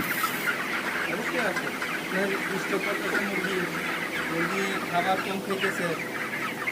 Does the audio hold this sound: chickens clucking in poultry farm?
yes